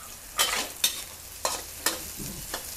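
Shiitake mushrooms and chili fry in a wok for a vegetarian stir-fried cabbage, with a steady sizzle broken by five sharp, clattering stirs at even intervals. No one speaks.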